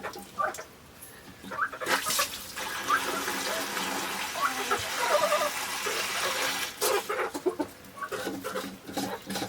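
Water pours and splashes into a poultry waterer for several seconds while chickens cluck and call nearby.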